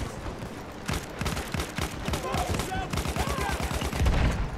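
Rapid automatic gunfire in a Battlefield 1 multiplayer match, dense rattling bursts of shots repeating steadily for several seconds, loud and near, with scattered game sounds mixed in.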